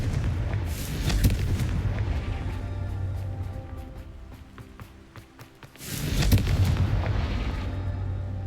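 Fiery Confringo blasting-spell explosions from the video game Hogwarts Legacy: two loud, heavy booms, one near the start and another around the midpoint, each followed by a rumbling roll-off, with no talking.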